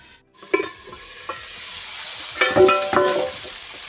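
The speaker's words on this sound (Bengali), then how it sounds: "এই যে এইভাবে ঢাকা দিয়ে দিয়ে ভালো করে কষিয়ে কষিয়ে তরকারিটা কিন্তু করতে হবে" A vegetable curry fries in a covered pan, a soft steady sizzle punctuated by several scraping stirs and clinks of a spoon against the pan, louder bursts clustering toward the end, with no talking.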